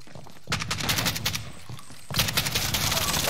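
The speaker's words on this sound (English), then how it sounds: "Shotgun." Gunfire in the video game Warzone Resurgence, a loud burst of shots followed by a second dense volley, close and sustained with a brief lull between, no voices.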